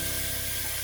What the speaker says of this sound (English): Whoa, sizzle!